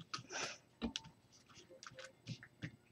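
Soft, scattered clicks and light papery swishes as tarot cards are slid and spread across a table, quiet and close.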